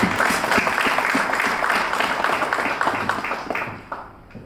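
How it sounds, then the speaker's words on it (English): A crowd applauding at a public talk, with steady loud clapping that gradually thins and fades toward the end. "Once more, a round of applause for that too."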